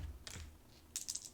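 Metal dice tumble across a Pvramid Basilisk Skin field cloth in a few quick, bright clicking bursts with soft rattles between them, close and fairly quiet, with no talking.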